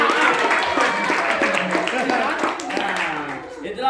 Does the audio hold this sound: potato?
no